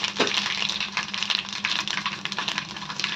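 Mustard seeds and cumin sizzle in hot oil for tomato chutney, giving a steady close frying hiss with small scattered crackles throughout.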